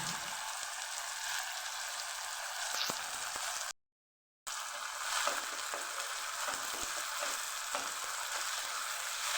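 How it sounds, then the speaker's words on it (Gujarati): Cluster beans (guvar) sautéed with turmeric, sugar, salt and spices in a pan for a Kathiyawadi guvar methi gota curry give a steady close sizzle with occasional stirring scrapes, broken by a brief silent gap midway. "ગુવાર સાથે મસાલાને સરસ આપણે સાતળી લેવાનું છે"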